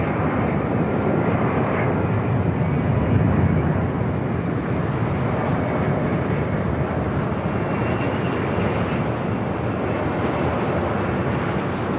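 An Airbus A330neo airliner lands at LAX, its jet roar a steady, broad rumble that swells slightly and holds for the whole stretch, heard from a moderate distance with wind noise and no speech.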